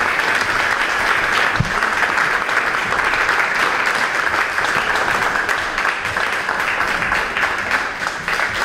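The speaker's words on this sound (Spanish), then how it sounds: "Vamos aplaudiendo" Sustained, dense crowd applause fills the hall at the Palacio de La Magdalena as Cantbasket basketball players are presented, a steady even roar of many hands clapping at close range throughout.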